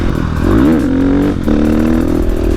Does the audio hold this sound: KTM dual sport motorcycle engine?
yes